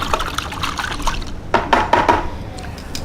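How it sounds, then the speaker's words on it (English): Grilling tongs swished and dipped in vinegar water, giving short bursts of splashing and dripping liquid at close range, with a quick cluster of splashes near the end. "so I'm gonna sanitize them with my vinegar water again."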